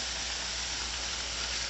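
Steady, dense crackling sizzle of bacon frying in a hot pan, constant and close, with no pauses or voices.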